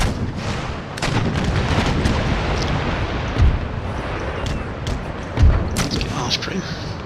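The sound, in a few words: ship cannon broadside in video game Empire Total War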